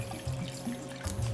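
Water poured into a pan of stuffed peppers, a soft close trickle and splash in short bursts, fairly quiet with no voices.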